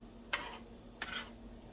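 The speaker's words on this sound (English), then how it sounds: "I just fold it and start chopping." Two quick knife chops through a folded vegetable on a cutting board while preparing shrimp scampi, two separate close strikes about a second apart, against quiet kitchen background.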